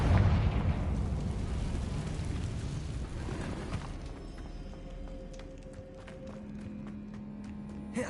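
Confringo fire spell blast in Hogwarts Legacy, a loud booming fiery burst with a long rumbling tail that fades into a quieter ambient hum.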